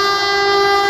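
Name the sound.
fast train with SBU-20 locomotive passing railway station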